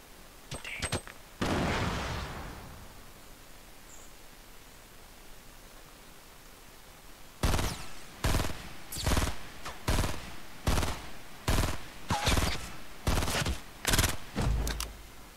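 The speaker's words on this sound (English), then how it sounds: "It took 27 of my shots to kill this dude." Gunfire in the Fortnite video game: about nine loud, evenly spaced bursts of shots fill the second half, after a brief earlier blast and a stretch of quiet noise.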